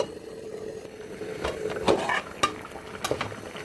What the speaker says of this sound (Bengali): ফুটে গেছে এখন ঢাকনা দিয়ে দিই